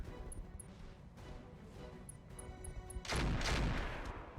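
Mech weapons firing in the RogueTech mod of the BattleTech video game, a steady rumble of distant shots building to a louder, denser burst of blasts near the end.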